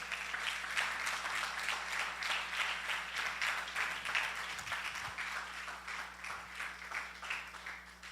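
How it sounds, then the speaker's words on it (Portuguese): Church congregation applauding together, a sustained, fairly distant patter of many hands clapping steadily through the whole stretch under a low hum, with no talk. "Dá um aplauso bem forte ao Senhor."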